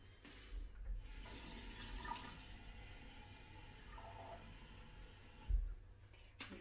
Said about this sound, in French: Ensuite, je vais mettre en gros la moitié d'eau.